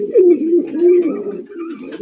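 A pigeon at a seller's stall coos clearly and close by, one long rolling, warbling call that rises and falls over about two seconds, with faint chirps behind it.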